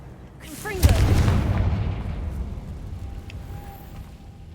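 A Confringo fire spell blasts in Hogwarts Legacy with one sharp, loud explosive boom. A rumbling tail slowly fades beneath faint game ambience.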